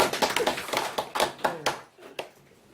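Brief applause at a Korean history lecture, a handful of people clapping close by in a quick burst of sharp claps that thins out and trails off into a few scattered last claps.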